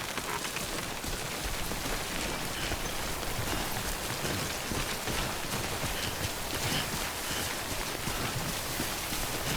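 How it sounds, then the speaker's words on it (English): Steady rain pours down in the video game Death Stranding, a dense, even hiss of drops on surfaces that runs without pause for the whole stretch, with no voices over it. "Don't stay out in the rain any longer than you have to."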